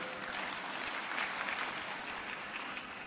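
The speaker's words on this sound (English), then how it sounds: "Give applause." Applause following a talk at an academic conference, a soft steady patter of clapping from a modest audience heard at a distance, holding level for several seconds.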